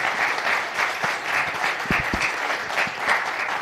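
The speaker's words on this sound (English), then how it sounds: "request all of my dealer partners for a big round of applause for our panelists" A crowd of dealer partners at a Delhi panel discussion on passenger mobility claps steadily for the panelists: dense, even applause that holds throughout, with no voices over it.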